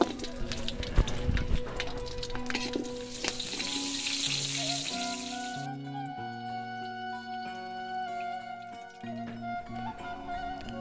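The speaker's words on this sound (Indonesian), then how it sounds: "Saya goreng dulu." Jengkol frying in hot oil in a home kitchen, a steady close sizzle and crackle that is loud at first then settles into quieter bubbling, with no talk.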